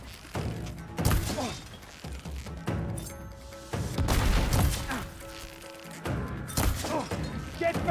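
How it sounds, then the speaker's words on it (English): Heavy explosions and thuds boom through a video game fight in Horizon Forbidden West, several loud bursts spread across the stretch over dense combat noise and music. "I'm hearing explosions."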